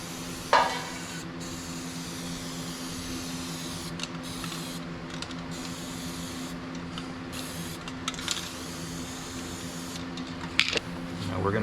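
An aerosol can of primer sprays a continuous hiss on a GM truck's wheel arches and wheelhouses, broken by a few short pauses and clicks, with a low mechanical hum beneath.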